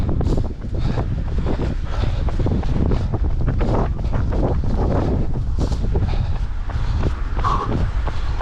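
A headwind buffets the microphone during a coastal run from Ramsgate to Pegwell Bay. A loud, continuous low roar and rumble covers everything, with no voice.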